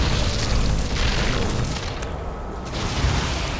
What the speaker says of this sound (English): there is a Mutalisk attack, Mutalisk harassment